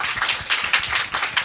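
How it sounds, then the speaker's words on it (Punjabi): Church congregation clapping loudly during a Punjabi sermon: fast, steady rhythmic claps from many hands, a dense even patter filling the short stretch without talk. "ਤਾੜੀਆਂ ਵਜਾਓ ਜ਼ੋਰ ਨਾਲ।"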